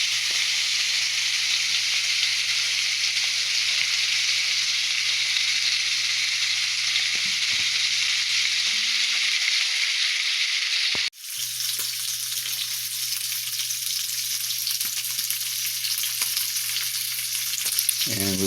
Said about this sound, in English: And we're just letting it cook. This is just some simple Applewood bacon.